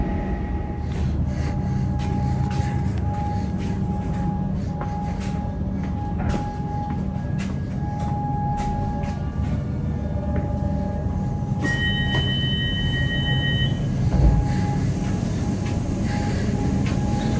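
A Comeng passenger train rumbles steadily nearby as it pulls away, with a continuous low roar and occasional high tonal squeals from wheels or brakes.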